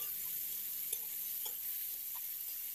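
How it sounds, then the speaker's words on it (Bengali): Bitter gourd pieces sizzle quietly in hot oil in a wok, with a few soft scrapes and clicks of a spatula as they are stirred. No one speaks. "এবারে আমি নুন হলুদ মিশিয়ে রাখা উচ্ছেগুলো কড়াইতে দিয়ে দিলাম। দিয়ে এবার আমি খুন্তি দিয়ে আস্তে আস্তে নেড়ে নেড়ে রান্না করতে থাকব।"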